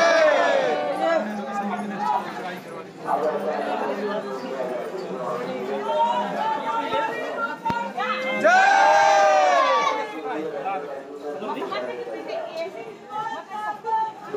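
A large, dense crowd at the Maa Sharda temple during Navratri, a continuous murmur of many voices and chatter with occasional raised calls and shouts, close and loud throughout.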